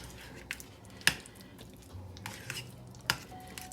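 A spoon stirring and scraping a mayo-based dip in a bowl, with soft squishy mixing and a few sharp clinks of metal against the bowl, close and fairly quiet.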